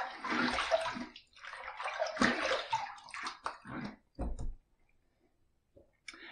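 Running water rinsing a double-edged open-comb safety razor after a shave, heard as close, uneven splashing and gurgling bursts that stop after about four seconds, leaving near silence with a faint tap at the end.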